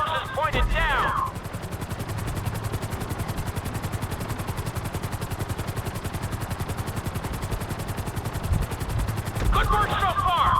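A helicopter flies in the video game GTA V, its rotor beating in a fast, steady thump under a constant engine roar, loud and close, with brief sharper bursts at the start and end.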